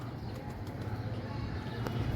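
A pigeon coos softly nearby in a low, repeated rhythm under a steady background hum, faint and close.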